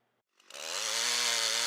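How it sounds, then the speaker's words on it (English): A chainsaw starts up and revs to a loud, sustained roar while felling a large white oak tree, rising from silence in under half a second, close and alone without talk. "Felling a large white oak tree."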